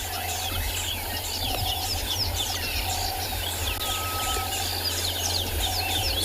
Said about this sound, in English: You'll hear that there's a whole bunch of alarm calls that are taking place from birds.